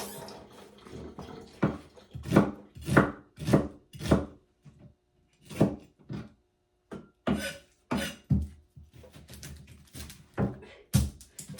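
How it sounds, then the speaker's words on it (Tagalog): Onions are chopped with a knife on a board in a kitchen, a close run of crisp, irregular cuts in short bursts, with brief pauses between. "Hiwa-hiwa muna ako ng sibuyas."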